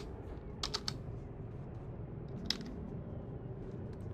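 Quiet clicking keystrokes on a computer keyboard, a short burst of several taps followed by a single later click over a steady low hum.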